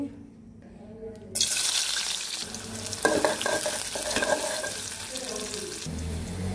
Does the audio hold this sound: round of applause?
no